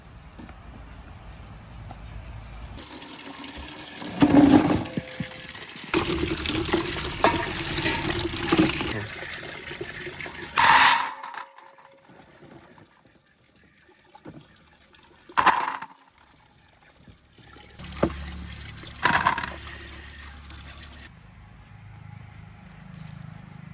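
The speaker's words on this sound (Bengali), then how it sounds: "এখান ট্যাপ থেকে একবার একটু ধুয়ে নিয়ে চলো" Tap water runs in bursts while mangoes are rinsed at a sink, splashing on and off with short pauses and sharper knocks between the flows.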